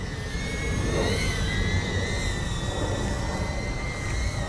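An iFlight Alpha A85 HD FPV drone flies close by with a steady high-pitched motor whine whose pitch shifts with throttle, loud and continuous with no voices.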